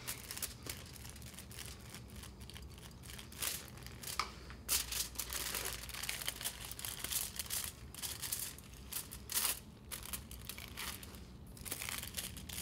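Aluminium hair foils being handled and folded during a highlighting session at a salon, quiet crinkling and crackling in irregular bursts throughout, close up and faint, with no talking.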